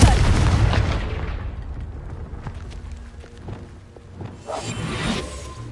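A Confringo fire spell from the Hogwarts Legacy video game bursts with a loud booming explosion, then rumbling debris and crackling settle over several seconds with a few smaller pops near the end.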